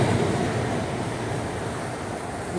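An SD40-2 diesel locomotive leads a mixed manifest freight train past a grade crossing, a steady, loud broadband rumble of engine and rolling cars that holds even throughout with no voices.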